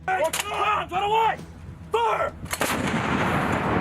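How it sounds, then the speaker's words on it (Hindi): Army artillery cannons firing shells in a training exercise, brief voices at first, then a single loud, booming blast that rolls out into a long rumbling decay. "मास्क लगाए कई सैनिक तोप से गोले दागते नजर आए"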